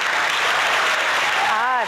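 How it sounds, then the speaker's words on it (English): An audience at a downtown Minneapolis evening event applauds in a brief, steady burst of many hands, with a voice starting to speak near the end. "I can hear you clapping all the way from your homes"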